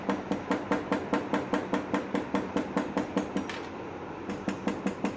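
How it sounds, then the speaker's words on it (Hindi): A gear is tapped gently into the oil pump of an old Royal Enfield 350cc/500cc AVL/LB engine with a hammer, giving a close, even series of light metallic knocks, about four per second, with a faint high ring. "टैपिंग करके उसको थोड़ा सा अंदर प्रेस करना है, हैमर नहीं करना है"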